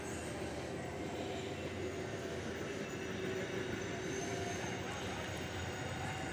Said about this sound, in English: Oh, that's another big train.